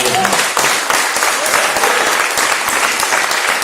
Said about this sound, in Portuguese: Dá um aplauso para o Senhor.